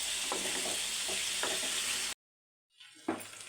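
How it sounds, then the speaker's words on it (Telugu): Pieces of chicken frying in oil in a pan, a steady hiss and crackle with a few stirring scrapes, then a brief silence before the sizzle returns with a louder scrape. "చూడండి, చికెన్ ఇలా ఉడికించుకున్నాం కదా, నూనెలో వేయించినాం"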